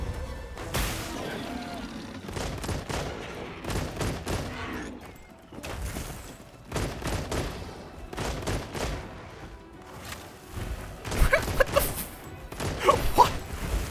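A heavy bowgun firing at a large monster in a Monster Hunter hunt, repeated booming shots in irregular bursts with impacts and mechanical clatter between them, loudest near the end, and a voice talking at times.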